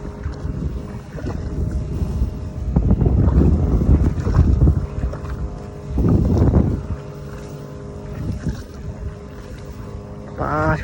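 Wind blowing across a flooded rice field, a steady broad rush that gusts louder in two long swells, with faint rumbling and scattered small sounds, close to the microphone and with no talking.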